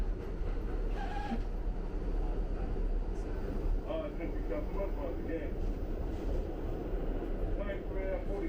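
New York 42nd Street Shuttle subway train riding between Grand Central and Times Square, a steady low rumble with faint squeals and clanks, heard from inside the car.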